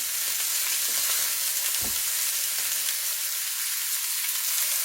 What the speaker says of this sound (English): I'm going to try to sear them on all 4 sides